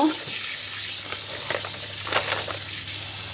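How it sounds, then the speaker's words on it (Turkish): Hot water runs steadily from a kitchen tap in a constant close hiss that fills the whole stretch without pause. "Şöyle suyu da açıyorum. Sıcak suyu."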